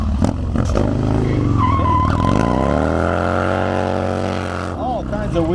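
A drift car races out of the finish gate in a Drifter Cross event at Tennessee Smokies Stadium, its engine roaring loud and near with a long rising and sustained wail of wheelspin, then tapering off as it swings around.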